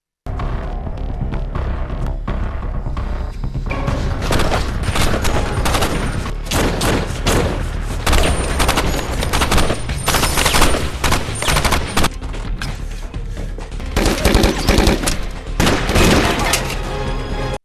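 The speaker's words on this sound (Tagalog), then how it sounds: "sumugod si Iceman at ang kanyang grupo, binaril ang mga tauhan ni Coates habang papasok sila." Sustained gunfire from a gang shootout film scene, dense bursts of rapid shots and booms continuing throughout, loud and close with no talk.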